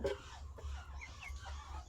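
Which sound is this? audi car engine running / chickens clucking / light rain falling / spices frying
chickens clucking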